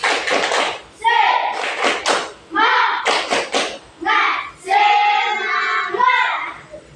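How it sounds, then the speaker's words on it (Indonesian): A class of students performs a rhythmic spirit clap in a classroom lesson, with sharp claps and thumps in patterned bursts mixed with chanting young voices throughout. "Ya, tepuk semangat."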